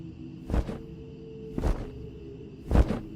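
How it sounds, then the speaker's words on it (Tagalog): Three loud, broad whooshing bursts about a second apart, like heavy wings beating close by, over a steady low hum. "biglang may narinig akong malakas na pagaspas na mga pakpak"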